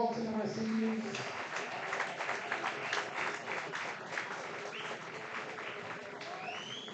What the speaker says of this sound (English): Can we get one really big, loud round of applause for all 10 of our seniors?